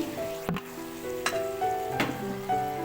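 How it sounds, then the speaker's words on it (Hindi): Spices frying lightly in a pan for a chicken macaroni dish, a close sizzle with a few soft stirring scrapes over a steady hum, no voices. "सारे स्पाइसेस इसमें डालेंगे और इनको हल्का सा फ्राई करेंगे"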